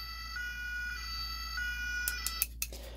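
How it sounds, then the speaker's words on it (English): A Playmobil 71233 toy fire truck siren wails in a steady electronic tone, cycling up and down, with a few sharp clicks near the end. "There's a mode A, which is this light, this siren."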